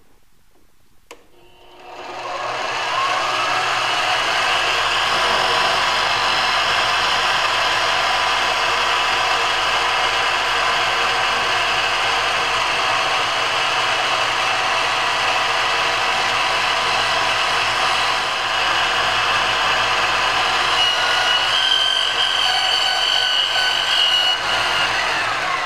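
A wooden cube box lid has its top hole enlarged on a turning machine, giving a loud, steady mechanical whir that starts after a quiet moment and runs continuously at close range without talk.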